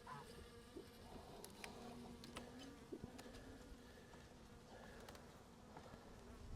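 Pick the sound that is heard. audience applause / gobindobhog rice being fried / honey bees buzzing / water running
honey bees buzzing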